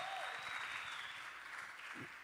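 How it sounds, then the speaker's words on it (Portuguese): A crowd at a church gathering claps steadily, a warm wash of applause that fades slightly toward the end. "Vamos aplaudir o Samuel, gente."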